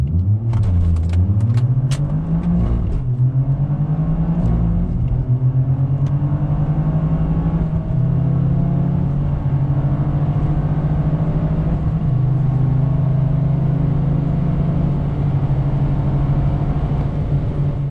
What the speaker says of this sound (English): Now we're going to take the car for a drive